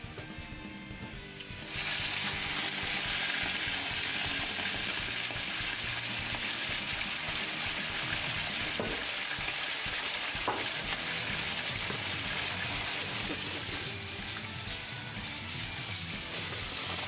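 Gyoza dumplings sizzle loudly in a pan after boiling water is poured in, a sudden burst of intense, steady hissing and spattering that holds at full strength.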